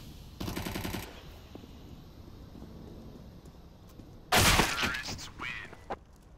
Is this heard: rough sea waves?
no